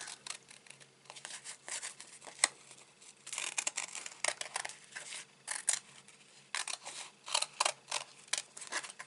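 Scissors cut out fun foam around an intricate die, a quiet close run of repeated snipping and crinkling strokes in uneven bursts with no talking.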